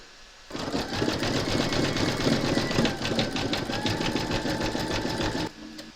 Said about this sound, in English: pop your hoop into your machine and stitch round number 11, and that's going to zigzag along this join